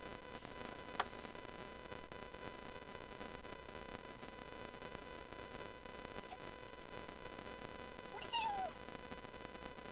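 A pet cat meows faintly and briefly in the distance, a thin rising cry near the end under steady background hiss and a soft ticking, with a single sharp click early on.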